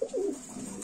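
A single brief, close coo from a lakka (fantail) pigeon, heard alone.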